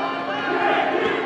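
A boxing arena crowd roars and cheers at the start of a featherweight bout's third round, a loud, dense, continuous wash of many voices, close and unbroken.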